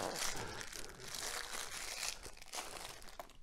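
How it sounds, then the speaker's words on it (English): A plastic bag crinkles and rustles as a knife is pulled out of it, with soft irregular crackles close by and fairly quiet, no talking. "Another unbagging."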